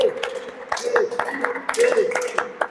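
A church congregation claps in loose, irregular bursts of hand claps. Speech runs through the whole stretch.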